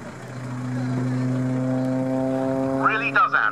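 A propeller airplane with wingtip-mounted pyrotechnics drones steadily nearby at an air display, its engine tone holding then shifting as it passes, with a brief burst of other noise at the end.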